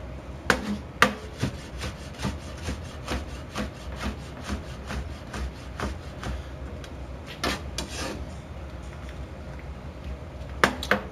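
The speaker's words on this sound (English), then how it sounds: "So we're just gonna cut that, julienne it." A knife slices a pepper into julienne strips on a cutting board, a steady run of quick, evenly spaced cutting strokes, close and fairly quiet, with a few sharper knocks.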